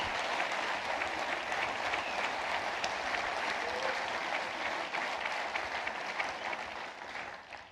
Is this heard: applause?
yes